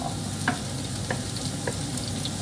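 Onion and garlic sauté in a hot pan, a constant close sizzle with a few soft stirring clicks and no talking.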